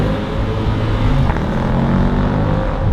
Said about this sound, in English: It hit the rev limiter and bogged.